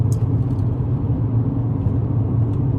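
A car cruises along Route 26, a steady low engine and road rumble heard from inside the cabin, with a few faint ticks over it and no talking.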